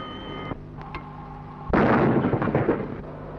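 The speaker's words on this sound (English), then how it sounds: "Holridge DCT, open fire. Open fire." Warship naval gunfire during a 1943 surface combat engagement: a sharp blast, a quieter pop or two, then a heavy booming salvo with a long rolling rumble that fades.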